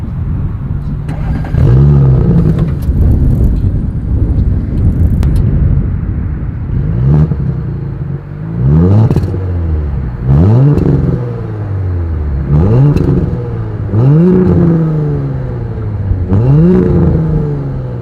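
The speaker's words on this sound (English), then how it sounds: "As always, here is that exhaust clip." A 2020 Audi S4's engine revs repeatedly, each rise and fall of throttle roaring loud and close, about eight deep exhaust blips in a steady rhythm.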